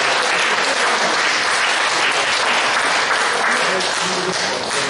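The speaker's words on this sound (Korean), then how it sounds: "우리 목사님들 다시 한번 박수하겠습니다." A congregation at a Korean police Christian mission joint worship service applauds the pastors, loud, dense clapping from a full room that holds steady throughout.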